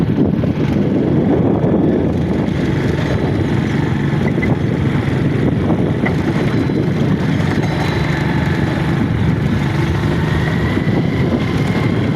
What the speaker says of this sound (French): C'est un véhicule de mine d'or là qui arrive comme ça.